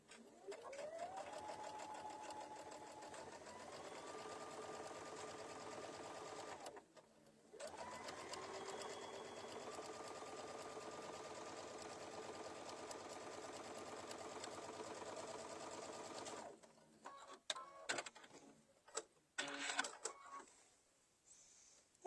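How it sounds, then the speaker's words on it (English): A sewing machine stitches steadily on a quilt-as-you-go zippered cosmetic bag, its motor loud and continuous, pausing once briefly before resuming, then breaking into scattered clicks and knocks of handling at the end. "And I'll just sew this on."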